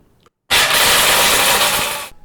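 A cheap countertop blender from Target or Walmart runs on its smoothie setting, crushing about two cups of hard Jolly Rancher candies: a sudden loud, steady grinding roar with rattling chunks that lasts under two seconds, then cuts off.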